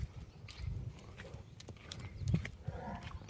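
Horse hooves clip-clopping on the ground at a village horse fair in Gujarat, a few uneven low thuds bunched at moments over a murmuring outdoor background.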